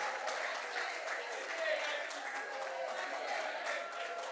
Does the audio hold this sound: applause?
yes